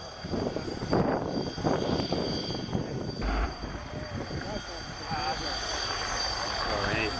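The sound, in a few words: Apache attack helicopter flying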